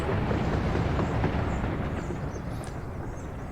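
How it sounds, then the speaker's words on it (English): Steady low rumble of a train rolling along rails in the city-building game Workers & Resources: Soviet Republic, a continuous moderately loud drone with a faint high squeal. "I'm hearing a train."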